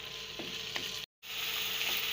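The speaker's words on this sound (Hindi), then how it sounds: "और इसको भी हम अच्छी तरीके से भून लेंगे मीडियम फ्लेम पर।" Meat sizzles in a pan over a medium flame, a steady hissing fry with a few faint stirring scrapes, broken by a brief silent gap.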